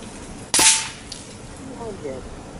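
A single sharp shot from an FX Panthera Compact .25 calibre air rifle with a short barrel, loud and close, with a brief ringing tail and faint murmuring afterward.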